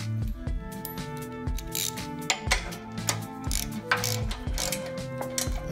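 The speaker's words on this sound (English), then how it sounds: "put the return spring and the threaded bolt back in first with the 21mm socket" A 21mm socket wrench ratchets a threaded bolt tight on an electric log splitter's hydraulic piston, with rapid clicking pawl strokes in quick repeated bursts, close and clear and free of speech.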